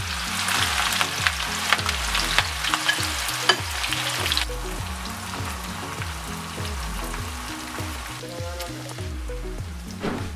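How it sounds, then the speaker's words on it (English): Onion and hot pepper frying in oil in a pot for a fish jollof sauce, a dense crackling sizzle with sharp pops and stirring clatter, loud and close, easing to a steadier hiss. "we're going to add one onion and one pepper if you like it spicy"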